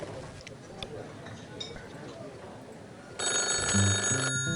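A telephone bell rings loudly near the end, following a stretch of busy background noise with voices.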